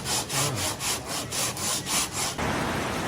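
Hand sanding on a 1965 Chevrolet Impala Convertible body with fine sandpaper: about nine even back-and-forth rasping strokes in a steady rhythm, close and moderately loud, then the strokes stop and a dense steady hiss like heavy rain takes over.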